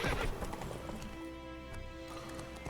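Hooves clip-clop at a steady canter from a horse in The Witcher 3, with a neigh at the start and a rhythmic gait continuing throughout.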